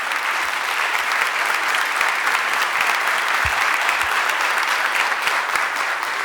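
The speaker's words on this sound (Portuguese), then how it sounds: "Vamos aplaudir a palavra do Senhor nesta manhã?" A church congregation applauds in a dense, steady wash of clapping that holds evenly loud for several seconds, with a few low thumps beneath.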